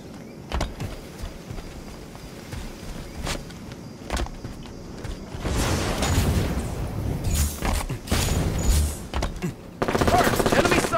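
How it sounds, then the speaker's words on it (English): Enemy gunfire in a Halo 5 Oddball match on the Overgrowth map, with scattered sharp shots early on, then sustained loud bursts of automatic fire and thuds near the end. "Watch the enemy fire."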